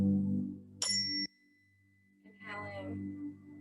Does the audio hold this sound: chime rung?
yes